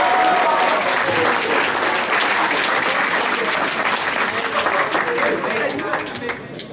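Applause from a grad-night crowd at a hypnotist show, loud sustained clapping with scattered voices mixed in, tapering slightly toward the end.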